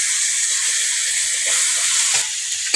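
Fish fat sizzling and frying in an oil-filled pan for Bengali-style cooking, a steady close hiss with a few soft stirring clicks near the end.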